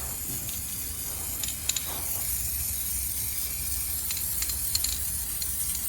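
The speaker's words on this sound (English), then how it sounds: "I'm just gonna spray it like spray paint" Spray paint hisses in a continuous steady stream onto a truck chassis and brake lines, close and even, with a few faint clicks.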